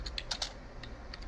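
Quick, faint keystrokes on a computer keyboard as commands are entered on a Cisco networking homelab setup, a short run of light clicks with no talking.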